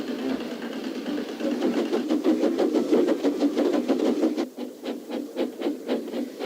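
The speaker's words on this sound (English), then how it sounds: "the tractor was hard at work as Thomas puffed along" Rhythmic chuffing and clattering from a tractor working a ploughed field in a Thomas & Friends story, a steady mechanical beat that loosens into separate spaced puffs toward the end, with no voices.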